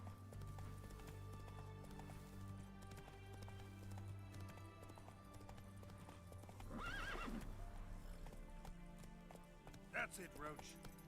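Roach the horse gallops and neighs in The Witcher 3, a rapid run of hoofbeats under game music with two whinnies, one around midway and one near the end, while a voice talks.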